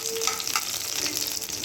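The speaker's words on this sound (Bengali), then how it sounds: "দেখতেই পাচ্ছেন ভাজা ভাজা আমার হয়ে গেছে।" A small dry chili frying in a pan: a brief, close, steady hiss of sizzling oil with faint stirring, no talk.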